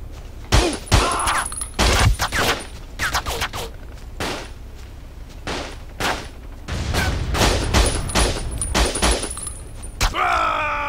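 Rapid bursts of gunfire in the video game Battlefield Vietnam, sharp repeated shots and thuds in quick clusters with short pauses between volleys, loud and close.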